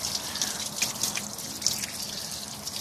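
Water drips and trickles steadily while a car heater core is flushed out. The irregular small splashes sit close over a faint background hiss, with no talk.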